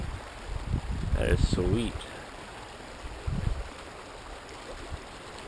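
A small stream running through a back yard over gravel, a steady close trickle and burble with a voice speaking briefly over it.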